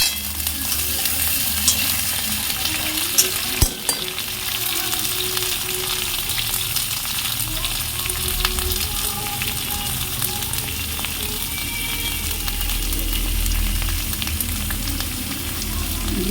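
Eggplant, papaya and tomato frying in a pan, a steady dense sizzle running throughout with occasional stirring scrapes, close and continuous with no talk.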